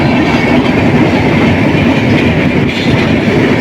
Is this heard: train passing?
yes